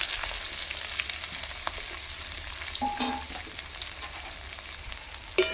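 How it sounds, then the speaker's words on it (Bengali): Chopped onions frying in hot oil for a chicken curry, a steady close sizzle that runs throughout, with a few faint clinks and a brief tone partway through. "তেল গরম হয়ে গেছে আমি পেঁয়াজটা তেলের সঙ্গে দিয়ে দিচ্ছি"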